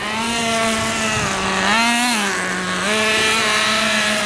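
A nitro RC truck tears around a track with a loud, high, whining small-engine buzz, close and continuous, its pitch dipping and rising as the throttle eases and opens again.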